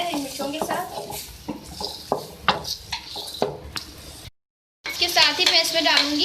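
Tomatoes and green chillies soften in a pan while a spoon stirs and scrapes against the metal in irregular clatters over a light sizzle, and someone talks throughout.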